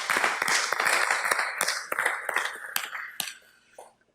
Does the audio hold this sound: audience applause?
yes